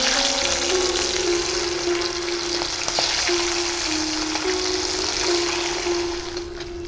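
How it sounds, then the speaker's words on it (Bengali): Amudi fish fry in hot oil in an open-air kitchen, giving a continuous, fairly loud sizzle that holds steady and eases slightly at the end, with a low steady hum beneath. "তেলটা গরম হচ্ছে, মাছগুলো আমি এক এক করে ছেড়ে দেব।"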